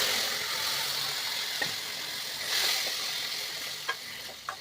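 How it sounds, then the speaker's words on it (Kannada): Cooked pigeon pea dal stirred into a hot tempering in a pan, giving a steady soft sizzle with a few brief stirring scrapes and clinks, close and fairly quiet, with no talking. "ಈ ಒಗ್ಗರಣೆ ಜೊತೆನೇ ನಾನು ಇದ್ಕಿನ ಬೇಳೆನ ಬೆರೆಸ್ಕೊಳ್ತೀನಿ"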